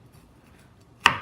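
A sharp knife strikes a cutting board once in a single crisp chop, close and clear, after a near-silent pause.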